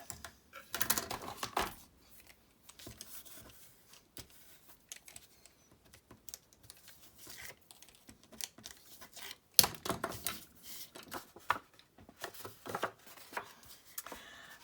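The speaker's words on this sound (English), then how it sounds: "Just snip that a little bit off." Scissors snip paper for a treat box, faint irregular clicks and cuts scattered across the span, with quiet gaps between the bursts of activity.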